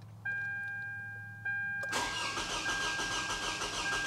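A Toyota Camry with a misfire fault cranks over: a sustained electronic tone and two clicks precede the starter engaging, then a loud, rapid, churning engine turnover continues to the end, with no talking.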